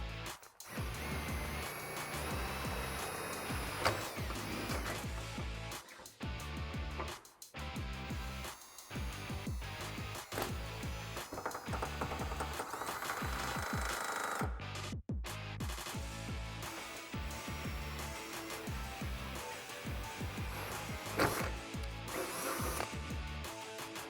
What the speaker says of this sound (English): now I jumped up to a 1/4 inch bit, and we can drill through one more time.